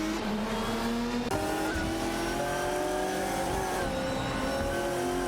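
Race car engines from a video game, among them a Maserati MC12 GT1 and a Porsche 996 Biturbo, drone and rise in pitch through gear changes, loud and continuous, with faint tire squeal mixed in.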